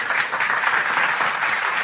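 A crowd claps continuously in a thick, even wash of applause, loud and sustained for the whole moment.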